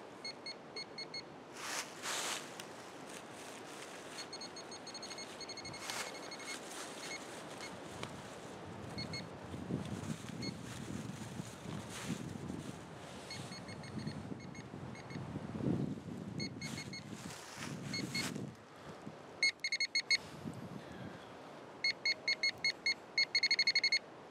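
Sharp electronic beeps from a metal detector recur at irregular intervals over steady outdoor rumble and wind noise, ending with a quick run of rapid beeps.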